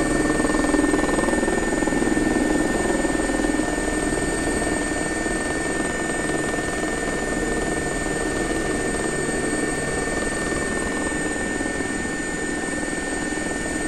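An air ambulance helicopter flies over London in the X-Plane 11 flight simulator, its rotor and engine making a steady, loud, unbroken drone throughout with no talking.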